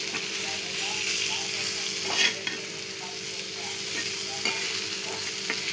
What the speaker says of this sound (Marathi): आणि नंतर थोडंसं शांभराचं कूट त्याच्यानंतर हे छान मिक्स करून घेणार आहे